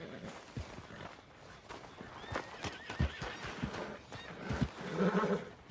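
A horse whinnies and neighs in the Western game Red Dead Redemption 2, hooves clip-clopping and shuffling nearby, with faint voices and a louder snort near the end.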